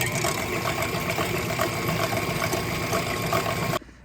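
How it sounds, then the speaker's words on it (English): Stand mixer whisking chilled, strained cherry chai into cold foam, a steady loud motor whir with a rhythmic whisking churn running continuously, then cutting off abruptly near the end. "Now let's return it to the stand mixer, whisk this a bit more."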